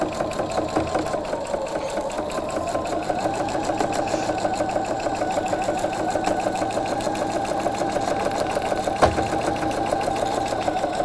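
A sewing machine stitches a small seam finished with a back stitch, its motor whirring steadily for about eleven seconds, loud and close, with a single sharp click near the end and no talking.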